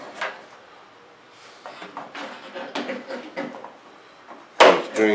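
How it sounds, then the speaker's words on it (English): Small hinged chute door on a model F-4 Phantom jet snapping shut as a string is pulled, a few light clicks and rustles, then one sharp near knock near the end. "The string shuts the door."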